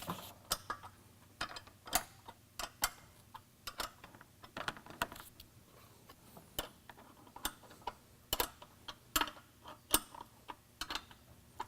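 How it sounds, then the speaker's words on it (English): A 9/16 wrench snugging down a bolt, giving quick light ratcheting ticks and clicks in irregular bursts, close and fairly quiet, with no talking. "take my 9/16 wrench and finish tightening this"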